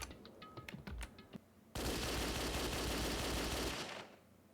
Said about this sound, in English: The surveillance camera had a machine gun attached.